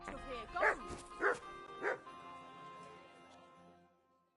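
A dog gives three short, evenly spaced barks close by, then trails off into a soft, fading whimper.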